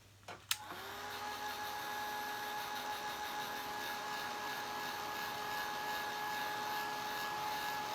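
A hair dryer switches on with a click and runs as a steady, even whir, drying paint on a wooden wreath; the tone stays constant and fairly close throughout.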